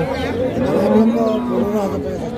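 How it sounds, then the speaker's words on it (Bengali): A crossbred bull at the Hazratpur cattle market gives a long, loud, close moo with a drawn-out tone, over a steady background of crowd chatter and voices. "এপাশেও এক জোড়া ক্রস জাতের ষাঁড় আছে"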